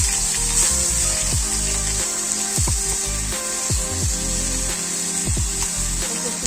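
Chopped onions and a bay leaf frying in a pan for a Bengali jackfruit and prawn dish: a steady, close hiss and sizzle with repeated scraping and stirring strokes throughout.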